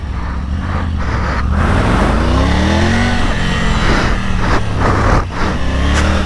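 Cars passing on a city street, a loud, close rush of engine and tire noise with rising and falling swells as vehicles go by, no talking over it.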